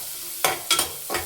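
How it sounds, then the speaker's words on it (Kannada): Chopped onion dropped into hot oil in a pan, three quick bursts of crackling sizzle with stirring, close and loud against a quiet background. "ಇವಾಗ ಒಂಚೂರು ಈರುಳ್ಳಿ ಫ್ರೈ ಆಗಲಿ"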